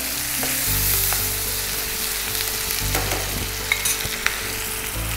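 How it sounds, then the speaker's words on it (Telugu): Onions frying in a couple of tablespoons of oil with turmeric, ginger-garlic paste and curry leaves, a steady close sizzle with occasional stirring clicks and scrapes, no talking. "సో ఒక 2 టేబుల్ స్పూన్స్ నూనె వేసి అందులో ఉల్లిపాయ ముక్కలు వేయాలి"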